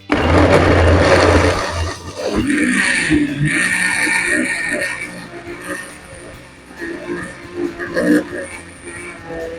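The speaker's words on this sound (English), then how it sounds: "when you're using a blender, it's not good to use it for a very long time" A blender whirs loudly at the start, then its motor noise fades into softer clatter and mechanical sounds, with voices mixed in.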